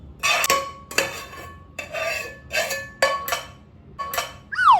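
Spices are pounded by hand in a stone mortar in place of a mixer, close up, with six or seven sharp knocks at uneven intervals and brief scraping between them, and no talking.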